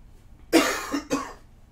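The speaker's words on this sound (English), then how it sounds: "that cough sounds" Two quick coughs, the first harsher and louder, sounding close by against a quiet background.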